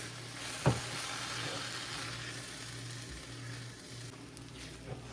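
Tempering for instant upma sizzles in a pan, a soft, steady frying hiss up close with a sharp clink near the start and a faint one near the end.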